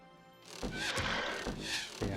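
A horse neighs in the video game The Battle for Wesnoth, a loud whinny with crashing impact sounds that repeat in a short burst-like rhythm.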